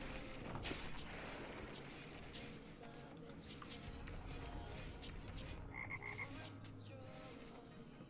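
A frog croak sounds inside the Auto Chess mobile game, set among a dense, steady mix of battle effects and music throughout.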